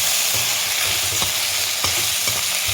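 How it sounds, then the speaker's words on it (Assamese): Turmeric being stirred into food frying in a pan for an Assamese bhedailota and puthi fish curry: steady close sizzle with a few soft spoon scrapes and knocks, no voices. "প্ৰয়োজনৰ মতে হালধি ভালদৰে মিক্স কৰি লওঁ"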